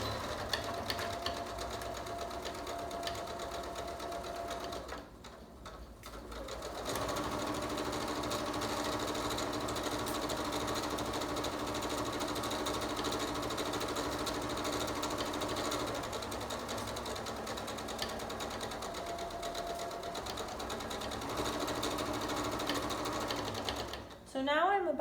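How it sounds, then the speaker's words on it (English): A sewing machine runs close by in long steady bursts, stitching along the bottom of a fabric fold on pajama pants, with a short pause near the start and a stop near the end. "we're going to sew on the bottom part of the fold"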